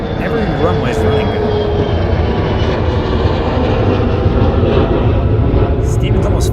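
A Mitsubishi airplane departs Charlotte Douglas Airport, its engine roar loud, steady and broadband throughout, with a faint whining tone, while people talk over it.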